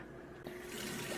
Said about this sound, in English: Okay, so now we're just going to rinse them off.